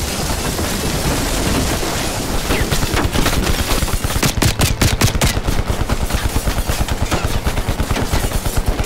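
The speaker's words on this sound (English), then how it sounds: "I'm getting shot from everywhere." Call of Duty Black Ops Cold War gunfire pours in as a dense automatic barrage, loud and continuous, with rapid, evenly spaced bursts layered over a thick, noisy battle background.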